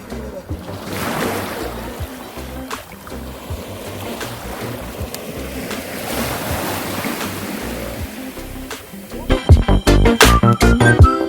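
Waves washing onto a sandy beach in Jamaica, a continuous rushing surf with wind buffeting the microphone, close and fairly loud, ending in a burst of rattling clatter.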